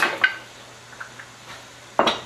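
Unsalted butter being stirred in a bowl before creaming, with a few sharp utensil clinks and scrapes against the dish, one at the start and another near the end, quiet between them.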